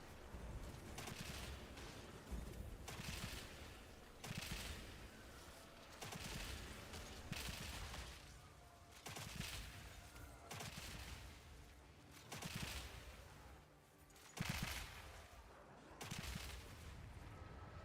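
A crossbow in a video game, fired with high attack speed, lets off rapid, dense bursts of shots in a near-continuous rattling stream, broken by short pauses, heard alone without talk.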